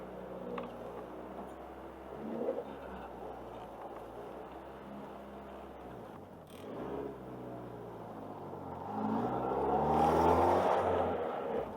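A Honda Civic EJ1 drives along, heard from inside the cabin: a steady low engine drone and road hum that swells as the car accelerates near the end, fairly quiet throughout.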